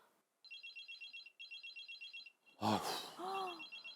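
A telephone rings in a house with two quiet, repeated bursts of trilling electronic tone, and then a voice speaks close by.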